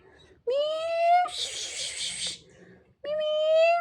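Two high, drawn-out kitten meows sound close by, separated by a soft breathy hiss-like noise in between.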